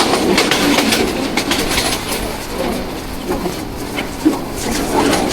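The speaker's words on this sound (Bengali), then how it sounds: "যাচ্ছে চলে ট্রেন," The Burimari Express rolls along with a continuous rumble and light rhythmic clatter, loud and close, while faint bird calls drift in behind it.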